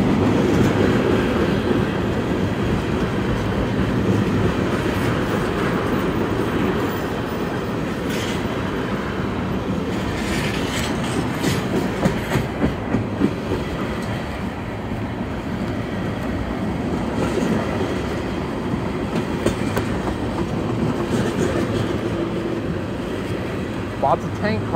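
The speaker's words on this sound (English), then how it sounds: "Now the train's starting to actually pick up" A Union Pacific outbound manifest freight train with GATX tank cars and box cars rolls steadily past, a continuous nearby rumble of wagons with rhythmic clickety-clack wheel beats that gradually speed up.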